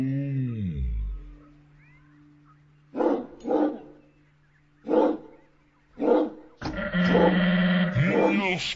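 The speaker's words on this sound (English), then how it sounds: "That's a dog barking, Barney." A dog barks four times in evenly spaced, loud gruff bursts, followed by a longer sustained animal cry, over a faint steady hum.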